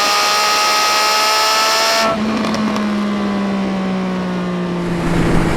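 A 2018 Triumph Speed Triple 1050 RS, a 150-horsepower triple, revs loud and close while ridden, then drops sharply in pitch at a quickshifter gear change and pulls steadily again over wind noise.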